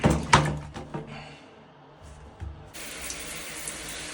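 Tap water runs into a container in a kitchen while eggs are being boiled; a few clinks and knocks come first, then a steady hiss of flowing water continues to the end.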